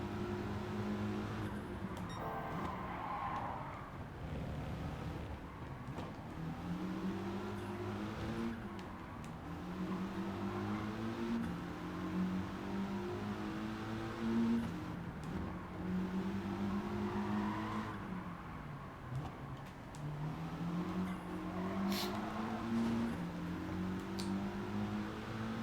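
Race car engines in Gran Turismo 7 hold a steady, moderate drone, pitch climbing through the gears and dropping at shifts and corners, with repeated rev sweeps across the lap and no talk.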